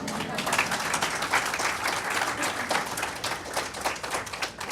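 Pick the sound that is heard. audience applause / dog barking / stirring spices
audience applause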